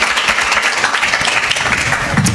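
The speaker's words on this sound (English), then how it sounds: "let's give him a round of applause" Audience applause for a panelist at a panel discussion, steady moderate clapping throughout with no talk.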